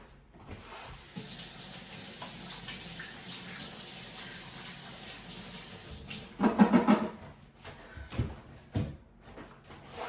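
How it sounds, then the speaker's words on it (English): Tap water runs steadily into a kitchen sink while hands are rinsed beneath it, a continuous hiss broken by louder splashing and a few knocks near the end, close with no talking. "let me wash off my hands real quick"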